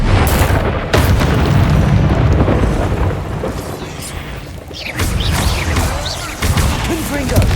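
Confringo explosive spell blasts in Hogwarts Legacy, repeated loud booming detonations with deep rumbling bursts, one sharp hit near the start and more eruptions later over continuous heavy noise.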